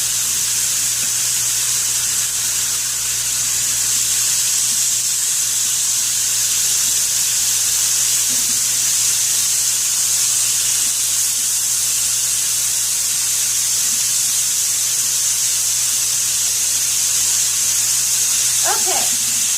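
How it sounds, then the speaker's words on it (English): Latin-marinated meat sizzles in an oiled pan, giving a continuous loud hiss that holds steady throughout, heard up close. "You want to hear the sizzle."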